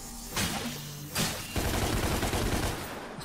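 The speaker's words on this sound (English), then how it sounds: "These pistols are so cool. I love the pistols in this game." Pistol gunfire in the Devil May Cry video game: two single loud shots followed by a rapid continuous burst of shots, close and sharp, with no talk.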